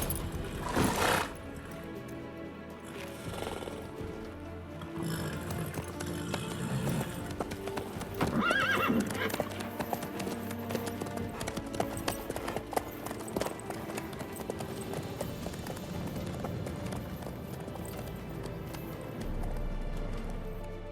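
A horse in The Witcher 3 video game gallops with steady clip-clopping hooves for about twenty seconds, letting out a neigh early on, with a brief voice and game ambience underneath.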